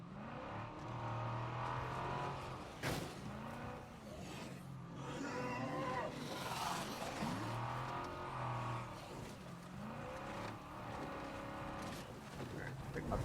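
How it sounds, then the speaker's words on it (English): A damaged car engine in the State of Decay 2 video game revs and drones with rising and falling pitch, fairly loud and continuous throughout, with brief surges and some scraping noise. "This car does sound, I don't know if it's just the damage."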